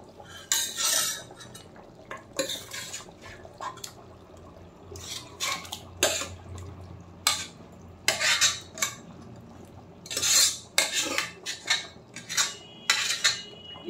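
Mutton added to a pot of half-cooked rice for tahari, with a series of sharp metallic clinks and scrapes of a spoon against the pot, spaced irregularly at close range with no talking.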